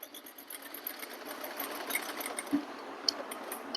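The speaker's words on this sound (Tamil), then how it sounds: "இப்படி டர்ன் பண்ணி தென் இந்த கர்வை ஸ்டிச் பண்ணணும்" A sewing machine stitches steadily around a curve on fabric, its even mechanical whir continuous and close, with a few faint clicks and taps of handling along the way.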